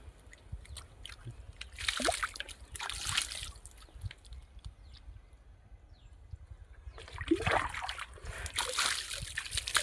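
Someone washes their feet with water on a farm after irrigating the fields. Two rounds of splashing and sloshing pour out, separated by a quieter stretch of faint trickling, with low background rumble.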